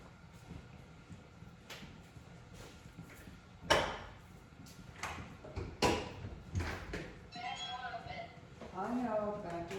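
A back patio door at home is unlatched and opened, giving a series of clacks, thumps and sliding rattles, followed by a synthetic alarm voice announcing from a nearby panel.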